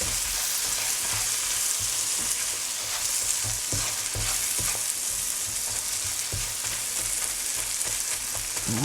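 Ingredients for a mushroom risotto cook down gently in a pan over low heat, giving a steady soft sizzle with occasional clinks and scrapes from stirring throughout, no voices.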